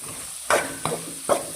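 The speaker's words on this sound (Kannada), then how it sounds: "ನಾನೀಗ ಈರುಳ್ಳಿ ಮತ್ತು ಕರ್ಬೇವಿನ ಸೊಪ್ಪನ್ನ ಆ್ಯಡ್ ಮಾಡ್ಕೊಳ್ತಿದ್ದೀನಿ" Onion and curry leaves sautéing in a hot pan for upma, with a soft steady sizzle broken by a few sharp stirring scrapes of the spoon, close and fairly quiet.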